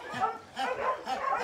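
An adult dog named Agnia, blind in one eye and partly paralysed, gives three short, close barks and yips in a quick uneven rhythm.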